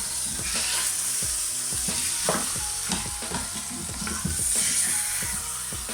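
Merguez sausages fry in olive oil in a multi-cooker, a constant close sizzle broken by repeated scraping and knocking as the meat is stirred and turned.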